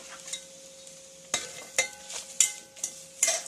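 Masala frying in a pan for Chettinad chicken, a soft steady sizzle broken by several sharp scraping stirs of a utensil against the pan.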